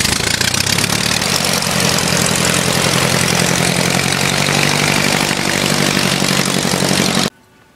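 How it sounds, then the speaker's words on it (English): A small propeller aircraft engine starts and runs steadily at a loud, close idle at Hardwick, a constant buzzing drone that cuts off abruptly near the end. "Now we start the engine."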